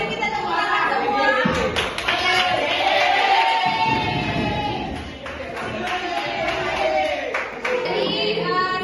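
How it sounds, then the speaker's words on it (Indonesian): A group clapping in a school guidance and counseling session, a steady crackle of many hands that runs nearly unbroken and mixes with children's voices and chatter throughout. "Mari kita tepuk tangan semua"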